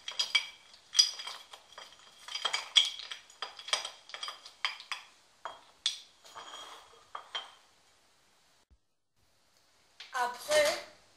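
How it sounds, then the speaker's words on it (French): Chocolate and butter are stirred together in a bowl for a French dessert, giving repeated close clinks and scrapes of a utensil against the bowl, with some speech alongside. "Nous mélangeons le chocolat avec le beurre."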